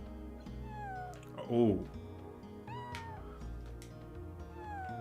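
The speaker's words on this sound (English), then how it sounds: "I want to compare the differences between the meows of the cats" Cats in the video game Chrono Cross meow one after another, a series of short, clear, falling meows with one louder, longer yowl, and a voice murmurs briefly.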